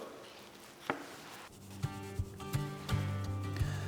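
Hands rub seasoning over a raw, mayonnaise-coated spatchcock turkey, a soft, close, slick rubbing with scattered light taps and pats, and a faint steady hum behind it.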